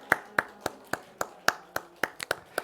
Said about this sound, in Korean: 앞뒤 옆 사람을 박수로 환영하겠습니다